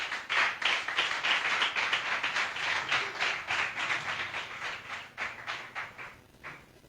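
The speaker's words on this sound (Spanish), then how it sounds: "Dale un fuerte aplauso al Señor." A church congregation applauds steadily for several seconds, the clapping dense and rhythmic at first, then thinning and fading toward the end.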